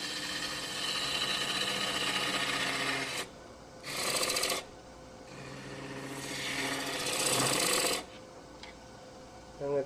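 Woodturning lathe spinning a wood piece while a 1/2 inch gouge cuts into it, a steady rasping drone with two louder bursts of shaving, close and continuous at a woodturners' club meeting.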